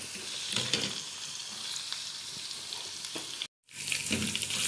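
Garlic frying in oil for the tasha of a molokhia dish, a soft steady sizzle and crackle in a pan that drops out briefly near the end before resuming.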